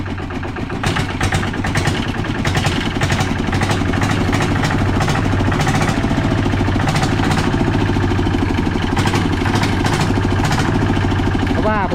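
A tractor engine running through a Chalawan-style racing exhaust pipe, idling loudly and steadily with a rough, knocking low rumble that carries on without a break for the whole stretch.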